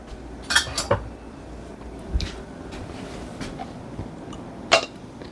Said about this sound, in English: So I have a hot product, the apple butter, going into hot jars because I had them in my canner